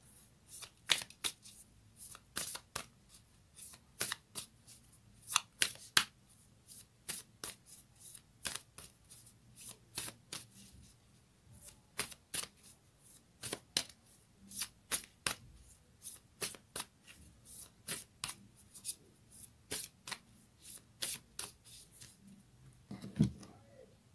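A moonology oracle card deck is shuffled over and over in a quiet room, giving crisp, close riffling snaps in an irregular rhythm with short pauses between bursts.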